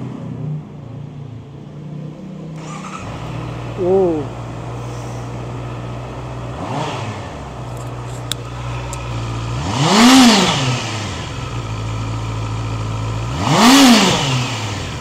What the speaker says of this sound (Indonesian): kita dengerin suaranya. Seperti apa suara mesin 4 silindernya